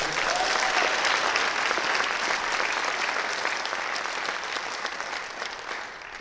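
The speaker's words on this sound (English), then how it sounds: "can you just clap it up for all the other speakers?" An audience at a talk breaks into loud, sustained applause for the speakers that fills the room and gradually tapers slightly toward the end.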